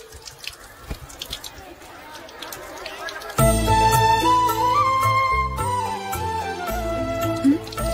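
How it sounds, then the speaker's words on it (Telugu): Water drips from a broken tap in a few soft, scattered drops before loud music swells in and covers them. "ట్యాప్ పాడైపోయింది. నీళ్లు చూడు ఎలా వేస్ట్ అయిపోతున్నాయో"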